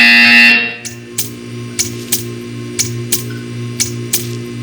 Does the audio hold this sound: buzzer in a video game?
yes